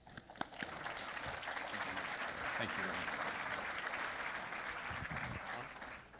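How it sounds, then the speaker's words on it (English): Sustained applause from a full house at a community annual report breakfast, steady dense clapping filling the room for several seconds, with a brief spoken thanks near the start. "Please join me in a round of applause for these gentlemen."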